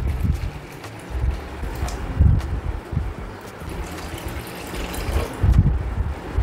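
Water is poured into a cooker pot of soaked wheat in a home kitchen, giving an uneven, gushing splash that swells and fades in several surges, close to the microphone.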